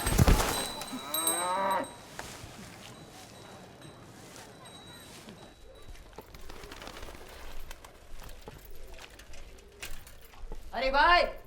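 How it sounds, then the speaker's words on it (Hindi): A buffalo in a residential neighborhood lets out a loud, close low moo at the start and another at the end, with quieter ambient noise between. "गुलाब बहन, हमारे मोहल्ले में इंसान कम और भैंसें ज्यादा रहती हैं"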